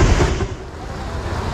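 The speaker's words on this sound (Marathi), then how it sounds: "कसलं घाण पाण्याला फ्लो येतं, कसला भयानक" Rushing floodwater of a swollen river after heavy rain in Pune, near Bhide bridge, makes a loud, close, turbulent roar mixed with wind buffeting the microphone, with no talking in this brief stretch.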